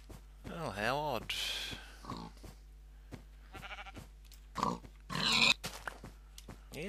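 Video game pigs grunting and squealing in several short bursts, a loud one at the start and more later, mixed with footsteps at a steady pace.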